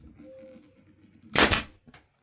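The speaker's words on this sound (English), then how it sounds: "I just shot a nail through there" A pneumatic nail gun fires once into a cedar fence picket while a cedar planter is being built: a loud, close, sharp burst with a brief tail and a faint second knock after it, following a quiet stretch.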